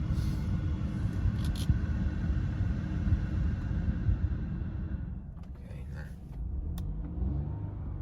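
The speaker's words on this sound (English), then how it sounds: "So car engine started, so I'll just give it a quick rev." A BMW 218i M Sport's engine gives a quick rev, a steady low rumble building under the cabin with a faint lift, close and moderately loud, then settling back to a quiet idle.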